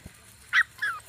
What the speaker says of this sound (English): And he's going to come right back and bark again.